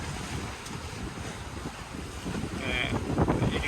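Wind rushes and ocean waves wash around a sailboat crossing the Pacific, a steady roaring hiss with surging swells that build louder toward the end.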